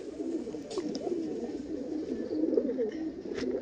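A pair of Kala Sabuj pigeons cooing close by, soft low burbling coos rolling continuously with faint rustles and light handling noise, no speech.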